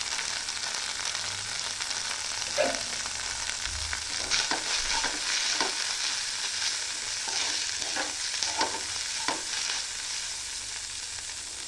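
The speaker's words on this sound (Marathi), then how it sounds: "ते पण तेलामध्ये चांगलं परतून घेते" Coriander powder frying in hot oil for a potato bhaji, a steady close sizzle with intermittent scraping stirs of a spoon in the pan.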